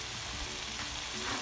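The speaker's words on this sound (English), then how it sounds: "Now I will cook this all masala about 1 minute." Masala of onion, tomato and spices frying in a pan for a Punjabi rajma curry, a steady close sizzle that runs continuously without a break.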